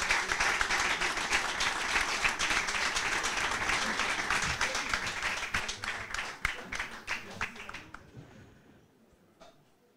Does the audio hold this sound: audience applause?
yes